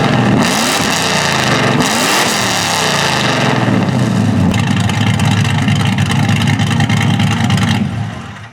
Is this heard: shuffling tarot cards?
no